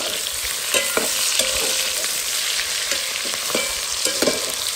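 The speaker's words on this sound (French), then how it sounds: "je mélange les oignons avec les saucisses" Sausages and onions sizzle loudly in a frying pan while a utensil stirs them, producing steady close frying hiss broken by repeated scraping, clattering stirs, with no talking.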